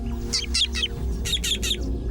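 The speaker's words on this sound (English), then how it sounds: "He spots an eagle on the hunt and sounds a warning." A meerkat sentry gives a warning call on spotting a hunting eagle: two bursts of sharp chirps, three quick calls then a pause and three more, heard clearly over a low steady background hum.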